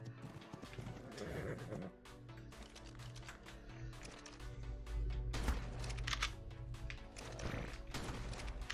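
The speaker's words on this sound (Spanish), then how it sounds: "Viene un caballo ahí, viene un caballo." Horse hooves clip-clop in the ARK video game as the animal approaches, with rhythmic thuds mixed into dense game music and effects, fairly faint overall.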